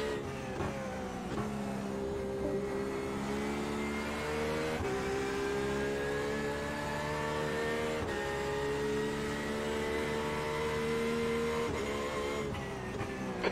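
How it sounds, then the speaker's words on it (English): A Porsche RSR GTE race car in a racing video game at Brands Hatch, its engine droning and rising steadily through the gears with brief shifts, heard continuously up close with no talking. "we're in the Porsche RSR GTE car"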